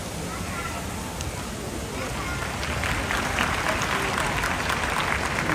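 An audience claps at a culture show in Bangkok. The applause is dense and continuous and swells louder partway through, with crowd voices mixed in.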